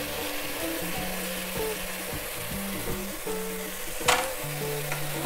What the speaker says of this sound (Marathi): आता छान याला पण परतवून घ्यायचं असतं पूर्ण 1-2 मिनिटं